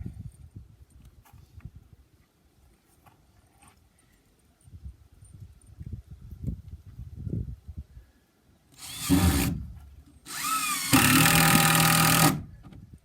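A power drill countersinks screw holes just over a quarter inch deep in wood, first in a short loud burst and then in a longer sustained whine, after quieter bench handling noises and with no talking.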